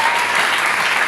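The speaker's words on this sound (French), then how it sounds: "Est-ce que tu peux bien acclamer?" Crowd at a church celebration applauding and cheering, a dense, loud, continuous burst of clapping.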